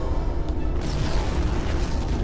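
A torpedo explosion strikes a starship in Star Trek Online, a loud, dense rumbling boom that fills the whole moment without letup.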